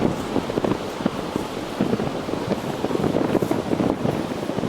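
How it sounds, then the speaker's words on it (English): Strong wind gusting across an open beach, a continuous broadband roar buffeting the microphone, steady and loud throughout with no talking. "Strong wind."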